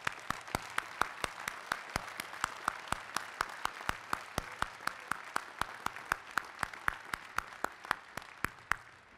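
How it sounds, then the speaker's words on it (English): Audience clapping at a 2018 spring university commencement, honoring first-generation graduates; sparse, separate claps ring out steadily across the whole stretch, with no voices. "a round of applause for all of them,"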